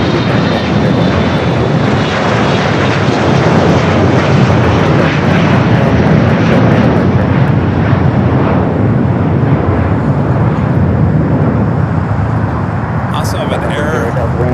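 Aircraft at Los Angeles International Airport, including jet airliners: a loud, continuous engine roar that holds steady throughout, with voices talking faintly underneath.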